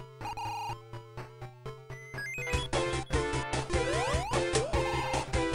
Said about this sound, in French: Celle du cinquième monde est tellement excellente que bah, je m'en sers comme sonnerie de portable.